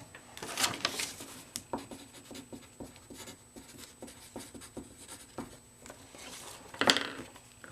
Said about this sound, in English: I gotta write that down.